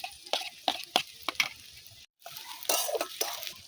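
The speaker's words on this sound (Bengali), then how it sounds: "ভালো করে লাল লাল করে ভেজে নেব।" Chopped ginger, garlic, onion and green chili frying in a pan, soft sizzling punctuated by a rhythmic series of spatula scrapes and stirs, with a brief silent break midway.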